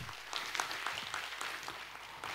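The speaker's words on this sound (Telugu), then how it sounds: "అక్కడ ఉన్నటువంటి వాళ్ళందరూ గట్టిగా చప్పట్లు కొడదాం." Scattered audience applause for a PCR staff team at a spiritual gathering, a faint, thin patter of hand claps with uneven rhythm, heard from a distance.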